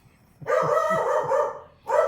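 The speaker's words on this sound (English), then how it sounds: "And there go the dogs." Dogs bark nearby in a quick run of several loud barks, a short pause, then another bark, heard alone in an indoor art studio during linocut carving.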